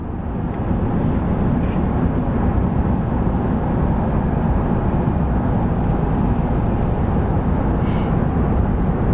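Steady, continuous roar of a fixed-wing airplane at Phoenix Sky Harbor International Airport, a dense low rumble holding level throughout with no talk.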